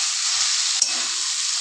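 Flat beans frying with green chilli, turmeric and cumin in a pan, a loud, dense, continuous sizzle with two short stirring scrapes.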